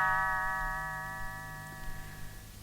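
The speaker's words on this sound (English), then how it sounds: "You will know it is time to turn the page when Tinker Bell rings her little bells" A soft, sustained bell-like chime with a clear ringing tone slowly fades as a page-turn cue in a Mickey and the Beanstalk read-along, alone with no talk.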